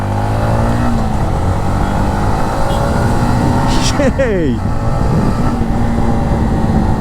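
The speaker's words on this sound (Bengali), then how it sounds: "এতদিন পর বাইক চালাইতেছি" A motorcycle engine hums steadily close by, with a brief rising whine of passing traffic midway and wind noise throughout.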